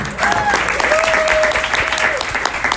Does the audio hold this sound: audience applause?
yes